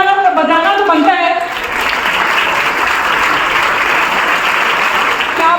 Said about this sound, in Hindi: एक बार खड़े होकर ताली लगाना बजाना तो बनता है